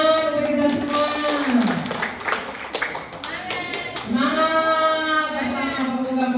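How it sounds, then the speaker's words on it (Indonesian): A crowd at a national Quran quiz final claps continuously in a steady patter, mixed with voices and a loud nearby voice that rises and falls over the applause. "Tepuk tangan untuk kita semua."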